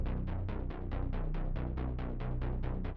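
A dry sub bass synth with its effects removed throbs in a fast, steady stream of deep repeated notes, loud and continuous with no voices.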